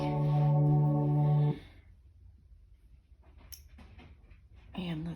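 Dogs whimper in a high, whining cry that holds steady for about a second and a half, then give a few quieter yips and breaths, followed by another short whine near the end. The sounds are close and loud.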